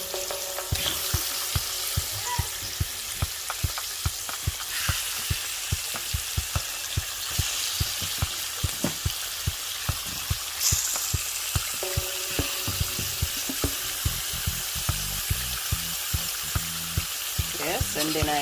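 Loud, close sizzling and crackling of chicken frying in hot oil in a pot for curry, with occasional scraping stirs and clinks against the pot throughout.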